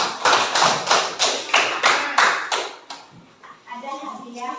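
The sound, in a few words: classroom applause for students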